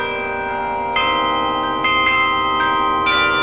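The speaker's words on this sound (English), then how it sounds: "ring the 65 bronze bells of the Williams Carillon" The 65 bronze bells of the Williams Carillon ring during the holiday season, layered sustained tones with fresh strikes about every second, each swelling over the lingering hum of the others.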